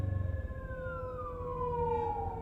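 A siren wails with a slowly falling tone over low engine rumble, fairly distant and steady.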